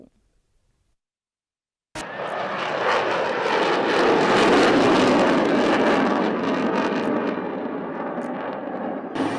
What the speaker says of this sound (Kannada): ಯುದ್ಧ ವಿಮಾನಗಳ ಅಬ್ಬರ ಆಗಸದಲ್ಲಿ